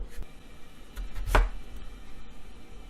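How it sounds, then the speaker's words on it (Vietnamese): A kitchen knife chops through white radish on a cutting board: one sharp, close cut stands out amid faint quieter handling noise, with no talking. "Mình cắt củ cải trắng"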